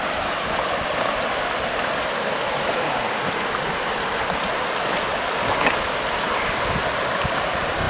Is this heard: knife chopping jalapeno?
no